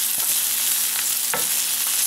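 Minced garlic sizzles steadily in a hot pan while a utensil scrapes and stirs it a few times, a continuous close frying hiss with faint clicks and no talking.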